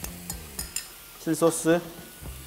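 Garlic and ginger stir-fried in a pan for chili crab, with soft sizzling, utensil scrapes and a few clinks, plus a brief louder tonal scraping burst midway.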